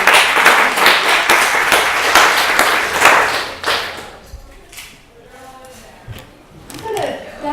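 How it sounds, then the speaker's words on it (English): Audience applause at a law enforcement panel discussion, dense clapping filling the room for about four seconds before thinning out into scattered claps and room noise. "give them a round of applause."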